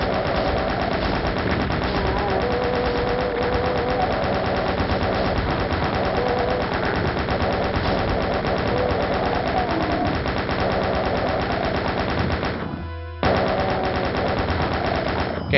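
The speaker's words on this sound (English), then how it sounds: "The minigun knows how to clear a room." Minigun blasting in the video game Doom, a dense unbroken stream of rapid loud shots running throughout, with a brief gap near the end before the firing resumes.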